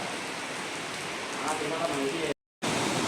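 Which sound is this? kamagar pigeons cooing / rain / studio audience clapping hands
rain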